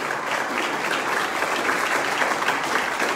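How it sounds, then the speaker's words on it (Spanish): Hearty applause from a crowd at a hundredth-birthday tribute to Don José, loud, dense clapping that stays even throughout. "Un fuerte aplauso para don José."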